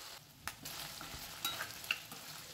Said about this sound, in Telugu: నీరు శాంతం అయిపోయే వరకు ఇలాగే తిప్పుకుంటూ వేయించుకోవాలి